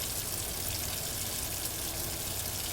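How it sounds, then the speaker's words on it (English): Hot water runs from a kitchen tap in a steady, continuous gush, close by and even in level, with no voices over it. "I turn on my hot water."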